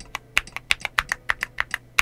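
Close, crisp keystrokes on a Yunzii AL66 mechanical keyboard clack in a quick, slightly uneven rhythm, about a dozen distinct presses, with nothing else audible.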